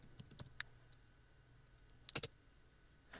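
A few scattered keystrokes on a computer keyboard while writing code in the NetBeans editor, faint clicks with a short quick cluster near the end and quiet pauses between.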